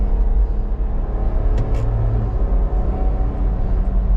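A 2024 Ineos Grenadier's 282-horsepower engine pulls in sport mode, a deep steady rumble from inside the cabin with road noise, rising gently under acceleration, with no talking.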